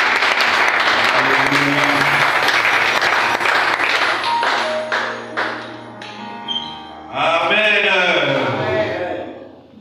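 Congregation applauding inside a church during worship, a dense, steady wash of clapping that fades briefly and swells again, mixed with shouted praise and voices over it.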